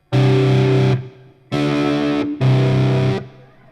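Three sustained electric guitar chords through a germanium fuzz pedal, heavily fuzzed, loud and saturated, each held about a second with short gaps between.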